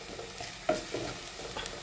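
Chilli fries in a pan with a quiet, steady sizzle, broken by a sharp scrape of stirring and a few softer clinks.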